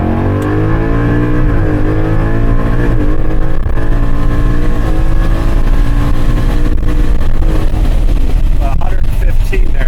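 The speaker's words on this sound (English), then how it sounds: "This is a second gear pull." A supercharged Gen3 Ford Mustang with an ESS G2 kit accelerates hard in second gear from about 30 mph, its engine note climbing steadily in a loud, continuous roar heard from inside the car, with someone talking over it.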